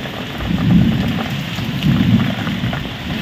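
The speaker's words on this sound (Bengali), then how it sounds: "আর একটু বৃষ্টি হচ্ছে ভালোই।" Steady rain pours down during a windy night storm with lightning, with two deep rolling swells of thunder, close and loud, no one speaking.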